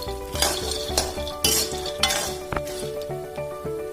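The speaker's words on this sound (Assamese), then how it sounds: "এনেকৈ মই ল' ফ্লেমতে ভাজি আছিলোঁ" Dry fox nuts (makhana) rattle and scrape in a pan as they are roasted over a low flame, with repeated sharp clinks of a utensil against metal at a steady stirring rhythm.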